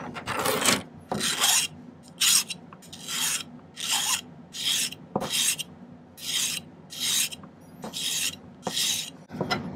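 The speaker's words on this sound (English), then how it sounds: "Spend a little time filing them." A hand file rasps across silver ring parts in a run of about a dozen rhythmic strokes, each a close, crisp scraping burst with short pauses between.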